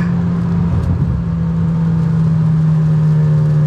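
A BMW M4 engine on a rainy road produces a loud, steady, deep drone that holds evenly throughout at close range, with no voices.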